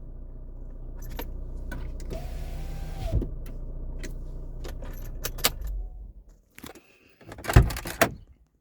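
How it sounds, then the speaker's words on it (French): A Renault Kangoo 2 is switched off, with keys jangling near the ignition, the engine hum cutting out and then clicks and a clunk in the quiet cabin afterward. "Hop, j'éteins la voiture."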